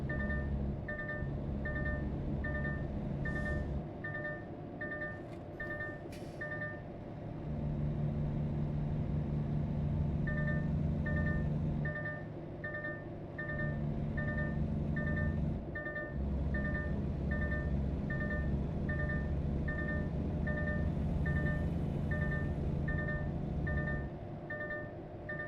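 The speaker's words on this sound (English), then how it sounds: "that alarm is because I'm too close to that cop car, I'm pretty sure, for this speed" A car's proximity warning alarm going off while driving close behind a police car: evenly spaced electronic beeps in pulsing runs over a constant engine and road rumble, pausing briefly once before starting again.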